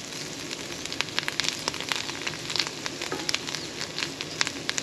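Morel mushrooms sauteing in a pan with butter and rosemary, a steady close sizzle with fine crackles and pops throughout.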